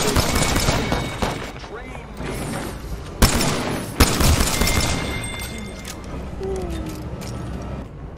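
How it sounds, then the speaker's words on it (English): Gunfire in the video game Apex Legends, with rapid bursts and a few sharp booming shots over continuous game noise, while someone talks over it. "Listen up, I'm getting shot at."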